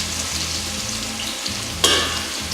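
Six garlic cloves fry in a hot pan for Afghan cooking, a steady close sizzle and crackle running throughout, with a sudden louder hiss burst near the end as the pan is stirred.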